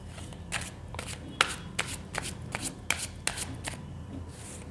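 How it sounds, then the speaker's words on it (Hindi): Tarot cards are riffled and shuffled by hand in a steady sequence of crisp, papery bursts, about a dozen quick flutters and slaps close to the listener with no one talking. "जब तक मैं कार्ड शफल कर रही हूँ"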